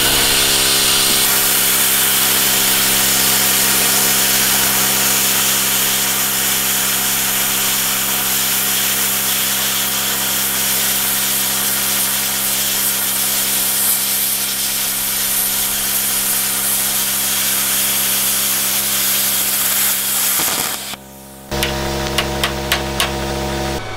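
A compressor-free plasma cutter slices through 12 mm of steel made from two stacked 6 mm plates, giving a loud, constant hissing roar up close for about twenty seconds before cutting out abruptly, followed by a few sharp clicks.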